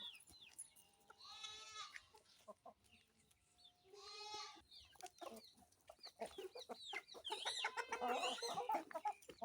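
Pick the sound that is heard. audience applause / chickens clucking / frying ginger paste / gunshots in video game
chickens clucking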